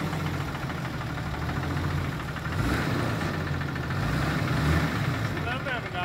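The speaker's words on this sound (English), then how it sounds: "when the engine started, it had some issues. It knocked just a little." A 4th-generation Cummins diesel engine idles with a light knock, a steady, dense rumble with a faint repetitive clatter running throughout at close range.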